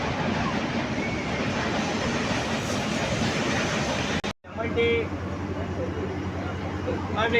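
A train passes close by with a continuous roaring rumble that cuts off abruptly, followed by quieter station ambience and people talking.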